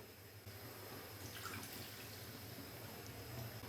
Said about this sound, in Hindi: थोड़ा सा पानी डालेंगे 2 से 3 खाने के चम्मच।